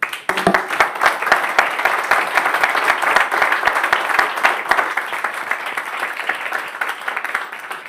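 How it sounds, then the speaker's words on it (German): Audience applause after a welcome speech at an agricultural innovation event, a dense, steady wash of many hands clapping at moderate loudness, with a few sharper individual claps standing out and no talk over it. "dieser Applaus gehört dir."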